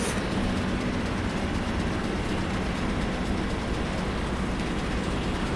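A GWR Bulldog 4-4-0 steam locomotive in a train simulator accelerates hard, with a steady, dense rumble and roar of engine and rolling stock that holds constant and close throughout, no talk over it.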